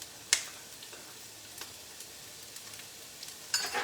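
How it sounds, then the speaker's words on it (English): Onion sautéing quietly in a pan, a faint soft sizzle with scattered small ticks and utensil clicks, fairly distant and low in level. "we're gonna let this onion saute a little bit"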